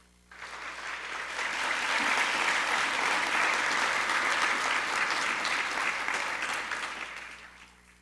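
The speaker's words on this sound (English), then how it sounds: "can we have a round of applause for the student voice?" Applause for the student speakers at a Seal of Biliteracy ceremony, a full crowd of clapping that swells in, holds steady and tapers off at the end.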